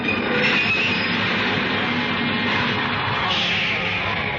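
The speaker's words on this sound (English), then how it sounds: "The subway stopped." A 1940s subway train rumbles loudly and steadily on its rails, wheels grinding and faintly squealing as it runs toward a stop, with no voices heard.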